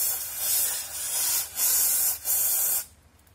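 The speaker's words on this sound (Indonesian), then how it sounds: "terus tinggal kita semprotin aja si cairannya ke bagian disc brake" Cleaning liquid is sprayed onto a motorcycle disc brake and its pads in several loud, close hissing bursts with brief gaps between them. The sound ends in near silence.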